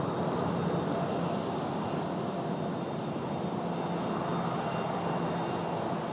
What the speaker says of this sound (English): 737 on the move